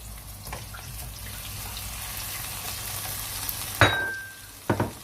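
Garlic and courgettes sizzling in a frying pan, a continuous close hiss and crackle, broken near the end by a couple of sharp utensil clinks against the pan.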